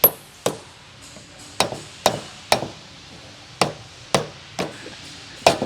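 Sharp knocks against a Harley-Davidson transmission housing as it is worked loose, about a dozen hard, ringing whacks spaced irregularly, close and fairly loud with quick decay between hits.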